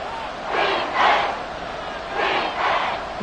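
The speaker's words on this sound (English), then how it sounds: "That just means this crowd's going to get even louder." A virtual stadium crowd in Madden 24 roars in surges, two rising swells of cheering shouts with a lull between, broad and loud.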